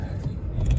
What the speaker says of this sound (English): 2 keys, so 2 proper folding keys, one in the car running and your spares.